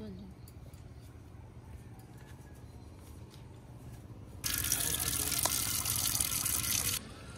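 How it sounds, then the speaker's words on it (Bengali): Tap water gushes steadily for a couple of seconds while fish and spinach are washed in a home kitchen, a loud hiss starting abruptly and stopping cleanly, with low background noise before and after. "দিদি পালং শাকটা দাও, মাছ আর পালং শাক ধুই"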